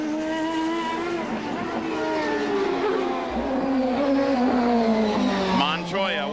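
A CART open-wheel race car on its final lap, engine screaming loud and close with rising and falling harmonic pitch as it slides through corners, a brief higher whine near the end, with a commentator talking over it.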